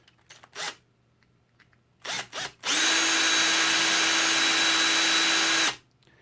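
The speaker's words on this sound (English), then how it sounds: "So what I'm going to do is I'm going to drill" Power drill bores into a Hot Wheels diecast car: a few short trigger bursts, then one sustained high whine for about three seconds, close and loud, ending abruptly.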